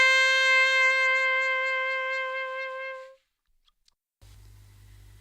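A saxophone holds one long, smooth note with vibrato, close and full, for about three seconds. It then fades out, leaving near silence with a couple of faint clicks.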